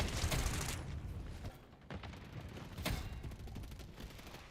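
Gunfire in the Modern Warfare 3 video game: a dense burst of rapid shots up front, then scattered bursts and single cracks over a busy battlefield bed, fairly loud throughout.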